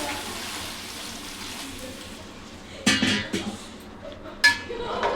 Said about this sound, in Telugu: నేను అదే గిన్నెతో గిన్నెన్నర నీళ్ళు పోస్తున్నాను